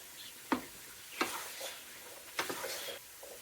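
Frozen vegetables for pork fried rice hit a hot pan, giving a few brief sizzling bursts with stirring scrapes between them, close and moderately loud, with no voices.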